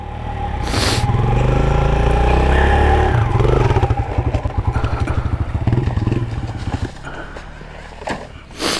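Kawasaki KLX140RF dirt bike on a canyon single-track trail, its small single-cylinder engine close and loud, idling in a fast throbbing putter that settles and fades slightly toward the end.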